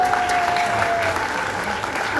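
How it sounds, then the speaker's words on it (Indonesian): A seminar audience breaks into brisk, continuous clapping, loud and close, filling the short moment without pause. "Tepuk tangan dong."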